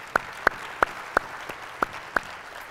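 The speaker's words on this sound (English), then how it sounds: "So round of applause" Six or seven sharp, evenly spaced claps ring out in a conference room at the 2019 New Orleans Clean Show keynote, a faint, sparse rhythmic clapping rather than full applause.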